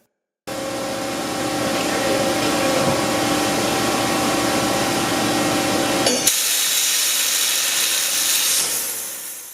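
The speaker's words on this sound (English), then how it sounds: "uses a 40 thousandths diameter jet stream to precisely cut through most metals" A Flow Mach 3 waterjet sends a fine high-pressure stream through metal in a manufacturing shop. The hiss is loud and continuous, with a steady hum beneath it, and it shifts to a thinner tone partway through.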